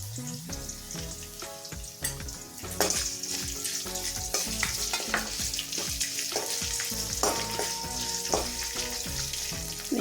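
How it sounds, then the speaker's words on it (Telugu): Tempering spices sizzle and crackle in hot oil for temple-style daddojanam, a continuous bright frying hiss with scattered pops and occasional stirring scrapes, close and alone. "వేగాయి కదండి పోపు దినుసులన్నీ"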